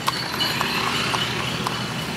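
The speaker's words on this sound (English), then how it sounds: "Little horse-drawn carriage, love it." Clip-clop of a horse pulling a small carriage along a street at night in Yogyakarta, Java, Indonesia, the hoof strikes sharp and evenly spaced a short way off against steady background hum.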